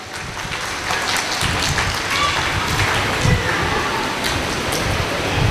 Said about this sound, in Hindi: हम इनका जोरदार तालियों से स्वागत करेंगे।